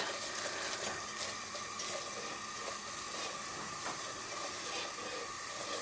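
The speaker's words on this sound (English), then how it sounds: "So you can see it's all starting to melt. I'm just going to whisk that around a bit." A whisk stirs sugar melting and caramelizing for hokey pokey, giving a faint, soft swishing and hissing with gentle repeated strokes, low in level and alone.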